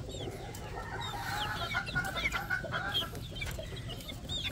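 Young male chicks and other chickens at a poultry farm cheep and cluck continuously, many small high calls overlapping close by without any talk.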